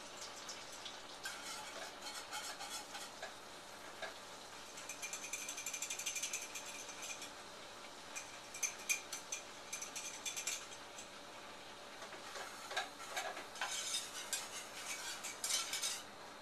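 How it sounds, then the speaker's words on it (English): Metal whisk scraping and clinking against a pot as cornstarch is stirred into melted butter for a mac and cheese sauce, a steady rapid scratching rhythm that grows busier midway, close and moderately quiet with no talking. "What I'm going to do is whisk it in"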